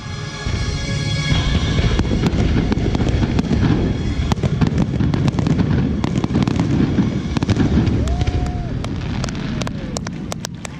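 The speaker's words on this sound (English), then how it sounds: "it ends with a great fireworks show." A fireworks show at Stone Mountain Park in Atlanta is heard as a dense, continuous barrage of cracks and booms under steady crowd noise, with a brief whistling rocket and sharp pops toward the end.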